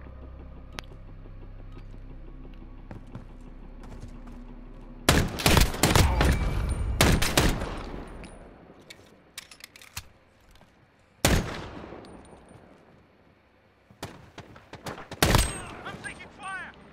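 Loud bursts of automatic gunfire in a Modern Warfare 2v2 Alpha match, several rapid volleys with gaps between them, mixed with game voice lines and a player shouting.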